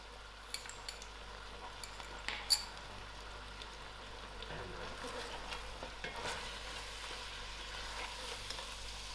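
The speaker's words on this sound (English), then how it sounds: "masalas to cook, giving the meat a nice stir" Lamb with masalas frying in a pot while being stirred, a soft continuous sizzle with scattered scraping and clicks of the spoon against the pot, close and steady.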